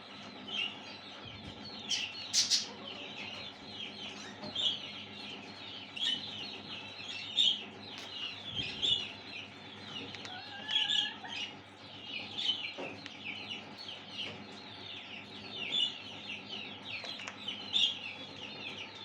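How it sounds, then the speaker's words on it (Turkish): Silver-necked Araucana chickens, blue-egg layers kept for breeding, clucking steadily in a coop with overlapping chirpy calls and soft murmurs, a continuous busy flock chorus at moderate distance. "Üretimde kullandığımız silver Arakuanalar. Gümüş boyun Arakuana."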